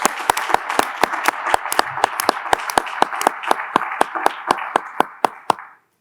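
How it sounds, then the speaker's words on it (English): At a school district board meeting, a small group applauds newly certified educators with crisp, evenly spaced claps in a steady rhythm of about four per second, ending abruptly near the close. "Let's give a round of applause to our newly certified."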